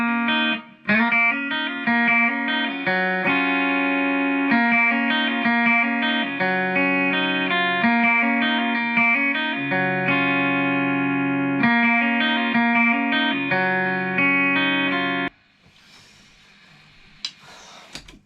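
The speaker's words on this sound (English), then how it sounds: "Strat, loud, clean sound" A Stratocaster electric guitar played loud and clean through reverb and effects, strummed chords ringing steadily for about fifteen seconds before a brief quiet scuffle of handling.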